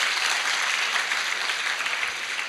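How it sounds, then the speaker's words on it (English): An audience at a college educational symposium gives sustained, even applause, a loud, continuous wash of many hands clapping with no break. "please give a big round of applause"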